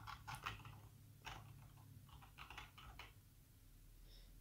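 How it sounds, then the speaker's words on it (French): A command is typed on a computer keyboard in soft, close clusters of key clicks and scattered taps, faint and without speech. "En attendant, on peut commencer à taper la commande."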